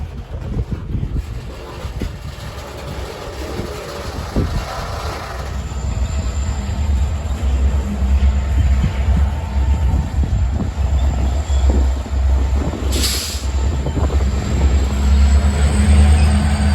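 Wisconsin and Southern freight train reversing with its locomotives, a steady low rumble of rolling cars and wheels that builds slightly, with a brief high squeal midway, heard close and continuous.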